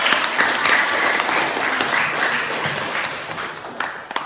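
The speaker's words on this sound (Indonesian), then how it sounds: "berikan tepuk tangan" A classroom audience applauds at the end of a lesson presentation, a steady, dense patter of many hands clapping at close range for a few seconds, with a few louder individual claps near the end.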